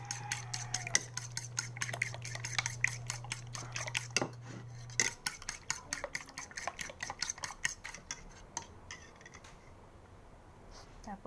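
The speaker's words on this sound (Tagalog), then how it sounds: "magbati lang tayo ng itlog" A utensil beats eggs in a bowl with rapid, light clinking taps that continue throughout. A low hum is heard early on, and the tapping slows and fades toward the end.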